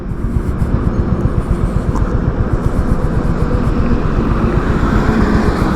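Honda Highness CB 350 motorcycle carrying two riders labors in a low gear, a loud, dense, steady engine rumble with rapid pulsing under rushing wind noise, continuous and close.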